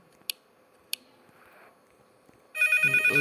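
A telephone ring from the horror video game Five Nights at Freddy's bursts in loud near the end, a rapid trilling electronic bell following two sharp clicks and quiet background noise.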